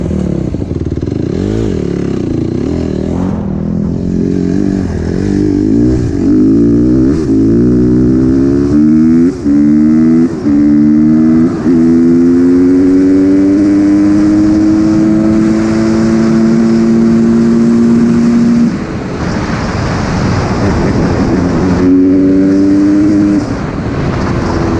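A kick-started dirt bike engine, an 85 or 150 class machine, idles close by and then revs repeatedly in rising and falling bursts, loud and steady for the full stretch with no talk.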